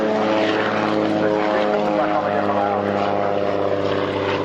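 Tiger Moth biplane taxiing tail-up at an airshow at Duxford, its propeller engine droning loud and steady throughout, with an announcer talking over it.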